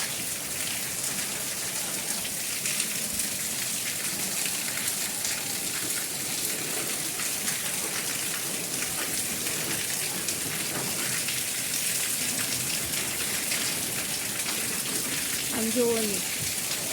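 Heavy rain pours during a windstorm in a steady, dense hiss without pause, loud and close, with a brief faint voice near the end.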